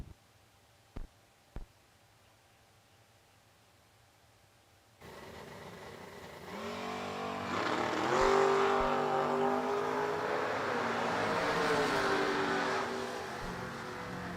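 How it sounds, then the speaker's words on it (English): Drag race at World Wide Technology Raceway pitting a 1977 Buick Skylark against a 1968 Chevrolet Camaro, with a couple of sharp clicks, then engines suddenly roaring off the line and building into loud, sustained acceleration with rising revs. "We got a 77 Skylark versus 68 Camaro."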